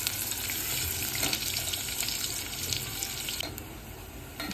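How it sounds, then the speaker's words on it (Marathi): Finely chopped onions frying in a pan for vegetable biryani, giving a steady, dense sizzle that runs unbroken and fairly close throughout, with no talking. "हा कांदा असं छानपैकी शिजवून द्यायचा आहे"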